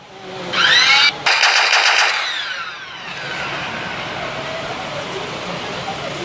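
Rapid automatic gunfire from a gun carried by a T-Rex in modded Minecraft, a loud burst of fast shots early on that fades into a lingering noisy rumble.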